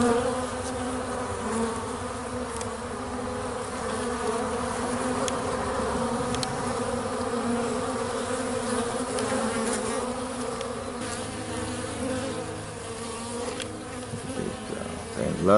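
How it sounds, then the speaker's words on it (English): Bees of several kinds buzz continuously near tall sunflower stalks outdoors, a steady close drone with individual insects passing nearer and farther, no voices. "So we have all kinds of bees in this area."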